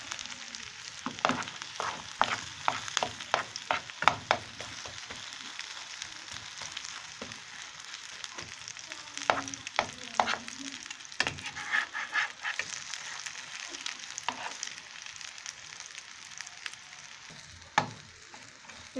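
A spicy bread omelette toast fries in a pan, with a soft steady sizzle and scattered scrapes and taps of a utensil turning it, close up and without talk.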